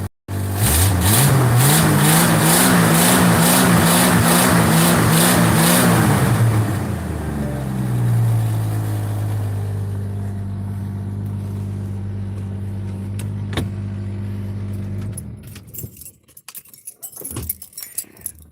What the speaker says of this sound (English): that is the sound of a 45-year-old engine that has never been rebuilt